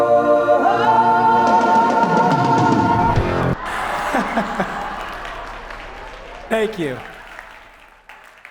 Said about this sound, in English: I think that's more applause than I got on the day of